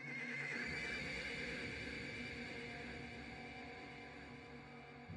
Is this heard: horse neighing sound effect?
yes